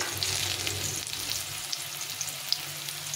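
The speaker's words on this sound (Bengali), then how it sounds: "করলাগুলো ভালো করে ভেজে নিচ্ছি" Bitter gourd frying in oil with turmeric, a soft steady close sizzle with faint scraping of a spatula, no voices.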